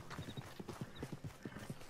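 A horse gallops away in Red Dead Redemption 2, its quick, rhythmic hoofbeats clopping faintly at a distance for a couple of seconds, with no voices over them.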